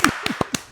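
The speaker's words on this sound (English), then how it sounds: "Clap it up." Four crisp hand claps in quick succession, close and fairly loud, introducing guests on a lacrosse podcast show.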